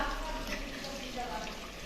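Lentils fry in a pan with a soft, continuous sizzle and faint stirring, steady and low in level throughout the short stretch.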